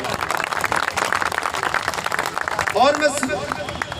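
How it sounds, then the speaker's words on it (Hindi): Crowd applauding a visiting judge at a news branch opening ceremony, a dense run of clapping over a voice, with a brief musical or electronic chirp near the end. "एक बार जोरदार तालियों से स्वागत करें"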